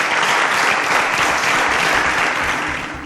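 A studio audience at a televised quiz show claps for a contestant in a loud, dense burst that tapers slightly toward the end.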